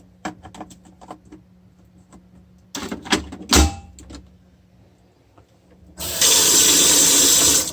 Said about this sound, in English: Check out this faucet.